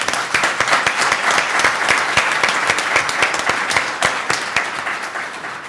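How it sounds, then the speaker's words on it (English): A room full of people applauding after a talk at an event on ending veteran homelessness, the clapping dense and steady at close range for the whole stretch, with no voices over it. "Let's give him another round of applause."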